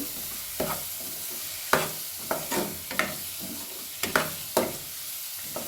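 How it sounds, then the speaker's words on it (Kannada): Spoon stirring chili powder into a simmering home-cooked dish, a steady series of scraping strokes against the pot about every half second over a soft bubbling sizzle, close and fairly quiet with no voices. "ಖಾರ ಹಾಕ್ಕೊಂಡು ಮಿಕ್ಸ್ ಮಾಡ್ಕೊಳ್ಳೋಣ. ಮಿಕ್ಸ್ ಮಾಡಿಕೊಂಡು ಸ್ವಲ್ಪ ಕುದಿಯೋಕ್ಕೆ ಬಿಡೋಣ."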